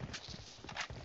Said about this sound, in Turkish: Duydun ayak sesini.